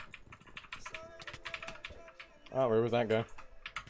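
Rapid clicking keystrokes from a compact computer keyboard during a Ranked Skywars match, a steady close-up patter running throughout while someone talks over it.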